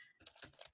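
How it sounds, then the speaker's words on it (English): Brisk clacking of a computer keyboard, a quick run of sharp keystrokes over under a second, loud and close as if picked up by a nearby microphone during an online group chat. "Who is typing so loudly?"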